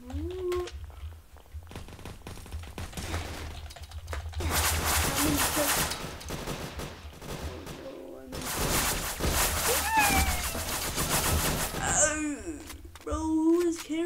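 Roblox gunfire in a chaotic firefight: long dense bursts of rapid shots rattle loudly for several seconds at a time, with short pauses between and voices talking over the shooting.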